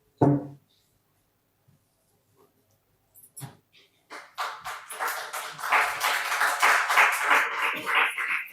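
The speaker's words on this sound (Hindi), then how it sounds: "तो ऐसे महान व्यक्ति का जोरदार तालियों से स्वागत होना चाहिए।" At a press conference, scattered claps build into sustained applause from a crowd welcoming a speaker, rising after a few quiet seconds and continuing steadily to the end.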